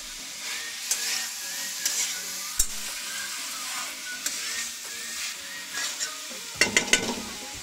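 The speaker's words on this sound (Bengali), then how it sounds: "ভালো করে সব কিছু মেশান" Vegetarian coconut ash gourd curry stirred in a sizzling pan: a spoon scrapes repeatedly against the metal over a constant frying hiss, with a cluster of sharper clatters near the end.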